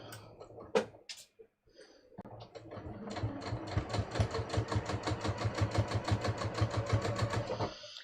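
A sewing machine stitches expensive Christian Dior fabric just below a seam, running in a fast, even needle rhythm for several seconds after a few handling clicks, then stopping.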